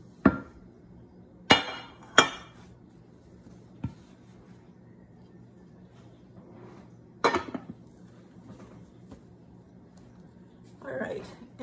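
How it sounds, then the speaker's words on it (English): Loaves of no-knead sandwich bread are knocked out of metal baking pans, giving a few sharp, separate clanks and taps spread across a quiet kitchen, with a soft rustle near the end. "So let's go ahead and take them out of their pans."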